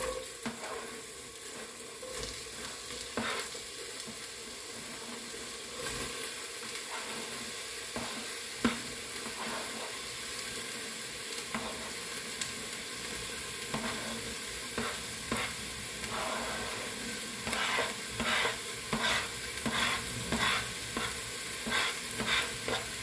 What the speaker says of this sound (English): Cook the onions and the leeks for about 8 to 10 minutes